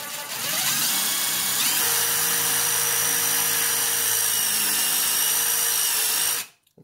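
A high-pitched impact driver whines steadily and loudly for several seconds, its tone shifting slightly as a hex drill bit bites into stainless steel, then abruptly winds down and stops.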